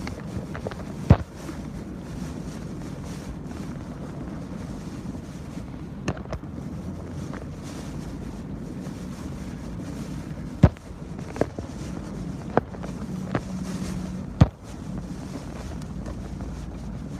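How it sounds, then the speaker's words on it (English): Strong damaging storm wind in Key Largo roaring against a moving vehicle, steady loud buffeting rush with occasional sharp knocks and gust spikes, no talking. "Driving into the wind"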